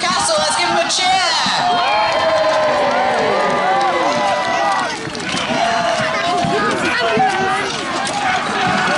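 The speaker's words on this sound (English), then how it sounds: "Let's give him a cheer!" Loud crowd cheering, whooping and shouting at a medieval battle reenactment show at Kenilworth Castle, a dense continuous roar of many voices with shrill calls rising throughout, dipping briefly midway before swelling again.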